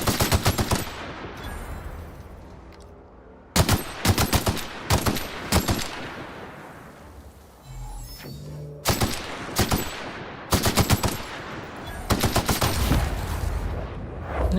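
A rifle in the snowy setting of The Outer Worlds fires in loud, rapid bursts, several volleys of sharp close shots separated by short pauses, each shot ringing with a crisp echoing tail.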